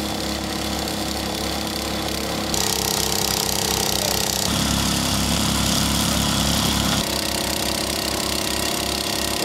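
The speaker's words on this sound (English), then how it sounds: "Gentlemen, start your engines, and the drilling resumes with a new section of pipe on" A well drilling rig's engine runs loud and close as drilling resumes on a new section of pipe, a steady heavy drone with rapid rhythmic pounding that shifts in pitch and intensity every few seconds.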